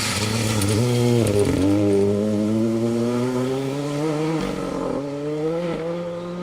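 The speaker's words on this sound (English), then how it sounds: "I thought I heard a Peugeot, you know." Peugeot R5 rally car with day-glo orange highlights on a stage of the Cambrian Rally, its engine loud and close, revving hard with rising harmonic sweeps and gear-change dips as it passes, running a little wide.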